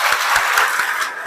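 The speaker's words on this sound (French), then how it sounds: "Si elle vous a plu, applaudissez pour vous-même." A conference audience gives a brief, close burst of applause with dense, fast hand claps.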